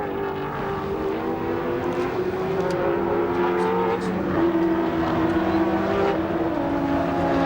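Race car engine droning steadily at close range as it rolls down pit road during the 1991 Bathurst 1000 motor race, a sustained mid-pitch note that shifts slightly as the car slows toward the pits.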